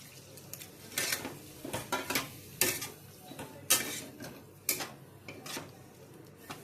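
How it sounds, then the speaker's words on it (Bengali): Paneer pieces go into a pan and get stirred with a metal utensil, producing irregular close clinks and scrapes against the pan over a low background sizzle. "পনিরগুলো ছেড়ে দেবো"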